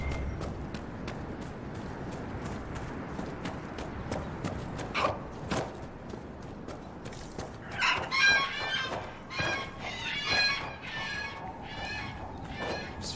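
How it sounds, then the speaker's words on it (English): Loud bird calls in the fantasy video game Dragon Age: Inquisition, clucking, chirping squawks that grow busier in the second half, over sharp clicking footstep-like taps and low ambient game noise. "These fucking birds are so loud."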